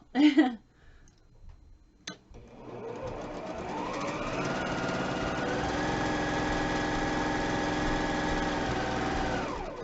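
A sewing machine runs as quilt pieces are stitched for a Valentine mystery quilt. After a couple of soft clicks, the motor whirs up to a steady, fairly loud hum that holds with only slight wavering.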